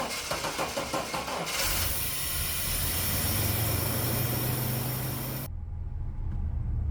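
A steady Chevy S-10 pickup engine drone runs continuously, loud and close, with a low rumble and no voices, after throttle body injection work.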